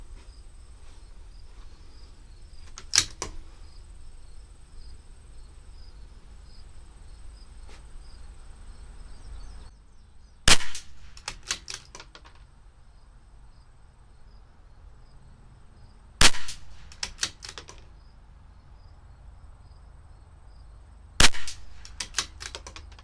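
A CZ 457 LRP rifle with an IBI barrel fires CCI Standard Velocity rimfire rounds outdoors: four sharp, loud cracks spaced several seconds apart, each with a short echo, over a steady chirr of crickets and insects.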